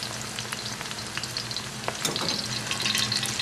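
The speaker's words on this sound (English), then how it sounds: "we're only going to fry it up on a medium heat here for about a minute or two till it's golden." Steady sizzling of garlic frying in hot oil over medium heat, continuous crackle with small pops, growing slightly louder toward the end.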